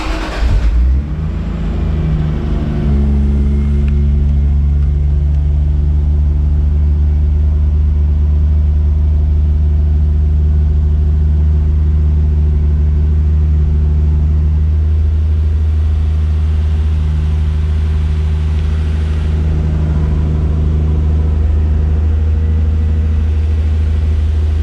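A Toyota Supra MK3 with a 7MGTE engine cranks and catches, then settles into a loud, close, steady idle hum that holds for a long stretch with slight swells.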